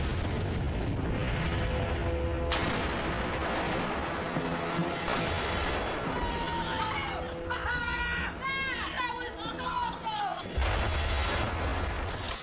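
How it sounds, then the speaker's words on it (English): A 5,000-pound ANFO explosion: a deep, heavy blast with a long rumbling roar that keeps rolling for seconds, while excited voices shout and cheer over it. "that's the biggest explosion we've ever done"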